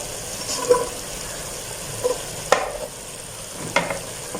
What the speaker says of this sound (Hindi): अभी बाकी हम अपनी चीज़ें डाल देते हैं, सब्जियां डाल देते हैं।